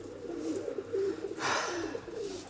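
Pigeons coo softly inside a loft: a low, rolling, continuous murmur of calls with a brief burst of rustling partway through, and no talking.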